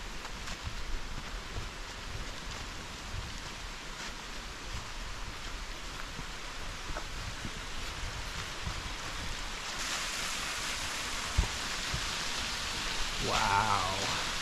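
Water at Walden Creek waterfall in North Georgia rushes in a steady broadband roar, continuous and moderately loud, swelling brighter toward the end, with no voices.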